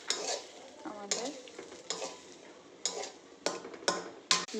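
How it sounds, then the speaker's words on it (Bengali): A dish with milk fries in a pan while being stirred, with a quiet sizzle under repeated scraping and clinking strokes of a utensil against the pan, roughly one every second. "দে দুধ দিয়ে ভালোভাবে কষিয়ে নিচ্ছি গাইস।"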